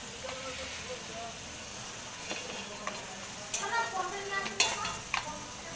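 Ground spice paste with turmeric and chilli powder is stir-fried in a pan for a meat dish, giving a soft sizzle under repeated scraping and clattering stirs that grow busier toward the end.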